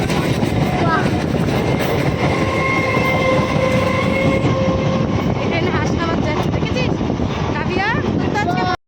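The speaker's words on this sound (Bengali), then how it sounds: "এই ট্রেনটা যাচ্ছে হাসনাবাদ" Commuter train bound for Hasnabad passing through a station, loud steady rumble with rhythmic clatter and squealing wheel tones, with voices faintly audible beneath.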